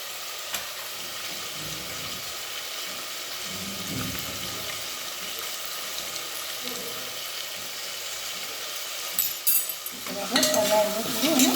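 Spices and mixed vegetables sizzle in hot oil for Kathiyawadi vagareli khichdi, a steady hiss with stirring scrapes, then running water and clinks of utensils toward the end.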